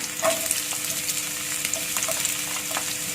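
Onion and shallots sauté in a hot pan with an even hiss and a few soft stirring clinks, with no voices.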